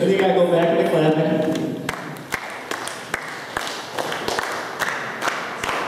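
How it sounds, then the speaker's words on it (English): At a worship service, a group claps along during an action-song game, a sustained patter of clapping under a singing or speaking voice, thinning into scattered sharp individual claps toward the end. "Then you gotta go back to clapping."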